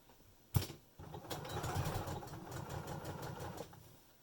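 A sewing machine stitches along the edge of the lining fabric of a sewn face mask, starting with a click then running in a steady, close mechanical whir for about three seconds before stopping.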